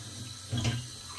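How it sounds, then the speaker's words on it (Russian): Warm tap water runs while glasses are washed at a sink, a faint, low rush with a brief louder splash in the middle of a short moment. "Вот я сейчас мою горячей водой."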